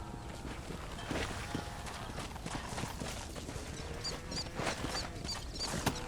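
In the video game Red Dead Redemption, faint hooves clip-clop at a steady trot over a busy background, with a few higher chimes and clatter mixed in.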